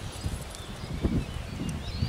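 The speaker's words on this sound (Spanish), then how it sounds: "caballo muy, muy manso." A gentle, heavy-set roan horse clip-clops in a few soft, uneven hoof strikes, close by and fairly quiet, with no talk over them.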